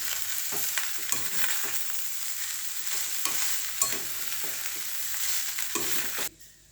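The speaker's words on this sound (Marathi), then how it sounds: "मी हा भात शिजवून घेतलेला मोकळा मोकळा शिजवायचा आहे तो टाकून घेणार आहे आणि त्याला आपल्याला मिक्स करायचं आहे व्यवस्थित" Cooked rice is mixed into frying vegetables in a pan for veg pulao, with repeated spoon scrapes and stirring knocks over a steady sizzle that cuts off abruptly near the end.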